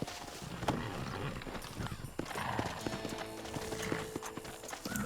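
Hooves of a ridden donkey clip-clop steadily in the Western video game Red Dead Redemption, in a quick, continuous rhythm with a neigh mixed in, close and prominent.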